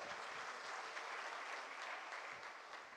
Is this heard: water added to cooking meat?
no